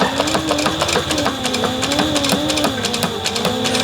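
A sewing machine stitches fabric for an AirPod Pro case, running loud and close with a steady, rapid mechanical chatter and a wavering motor whine.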